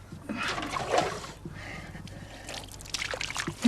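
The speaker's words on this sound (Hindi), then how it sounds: "पानी डाल जरा।" Water poured from a vessel in a home drama scene, a trickling splash lasting a few seconds at moderate level, with faint background noise and a brief sound at the end.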